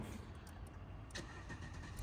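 A Jeep Compass engine starts and settles into a low, steady, quiet rumble, heard alone without talk.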